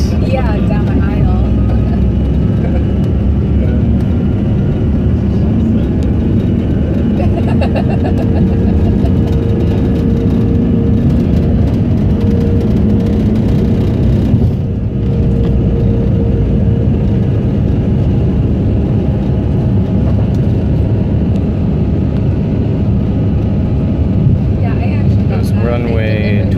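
Inside the cabin of a United CRJ-200 regional jet taking off from Chicago O'Hare, a loud, steady engine roar fills the whole stretch, with a faint tonal whine rising over it midway.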